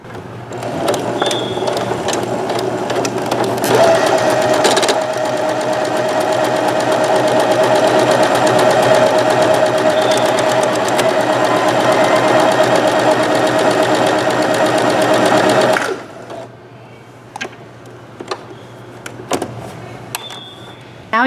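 A sewing machine stitching a buttonhole, a loud fast continuous mechanical whirring for about fifteen seconds that then stops, followed by a few soft clicks and taps.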